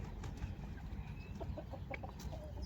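Chickens clucking at a duck farm in Israel, with several short clucks and calls scattered over low, steady farmyard rumble and background noise.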